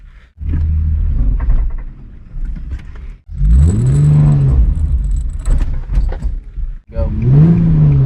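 A Nissan 350Z with a manual gearbox pulls away on a steep hill in repeated short bursts, each one revving up hard and then cutting off, loud and close, with no talking.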